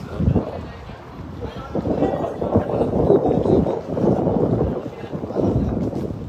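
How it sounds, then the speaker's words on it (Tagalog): Steady wind buffets the microphone, a low continuous rumble and roar that swells and eases throughout. "Buti mahangin ngayon."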